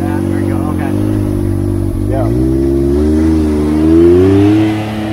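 A big-turbo car with an aftermarket exhaust idles and climbs to a held rev around 2,000 RPM before launching from 0 to 60, a loud, close, rising engine drone with people talking over it.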